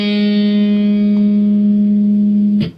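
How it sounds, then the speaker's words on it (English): An electric guitar sounds a single sustained note and moves to a second pitch by a hammer-on rather than a new pick, as in a guitar lesson; the tone rings steady and loud, then cuts off abruptly near the end. "a hammer-on would sound something like this."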